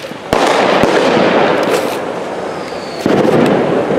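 Fireworks and 200-gram firecrackers go off at close range during New Year celebrations, with sharp loud bangs at the start, around the one-second mark and near three seconds, over a dense continuous crackle of bursts.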